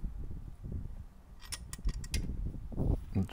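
A spanner tightens bolts on a free-flow silencer fitted to a Royal Enfield Hunter 350 motorcycle, giving close ratcheting clicks and metallic scrapes against low rumbling handling noise.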